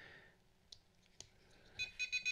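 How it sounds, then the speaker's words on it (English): A Radiolink AT10II radio transmitter sounding its low battery voltage alarm, a few soft clicks followed by a run of four short high-pitched beeps in a regular rhythm, close by and moderately loud. "I already know the battery's low, so it's gonna alarm at me a little bit."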